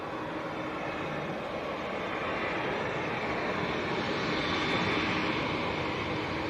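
Passenger jets depart Manchester Airport, and a steady, distant engine roar swells slowly and peaks late without ever turning sharp.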